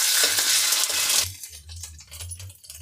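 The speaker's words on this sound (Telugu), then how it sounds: "ఇప్పుడు అల్లం వెల్లుల్లి పేస్ట్, ఇది కొంచెం పచ్చి స్మెల్ పోయే వరకు ఫ్రై చేసుకోవాలా" Ginger garlic paste frying in a pan, a loud broadband sizzle for the first second that drops to a softer crackle with stirring scrapes and a low hum underneath, no talk.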